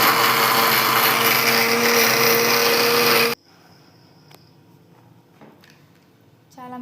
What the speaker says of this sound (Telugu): చాలా మెత్తని పేస్ట్గా మిక్సీ పెట్టుకున్న తర్వాత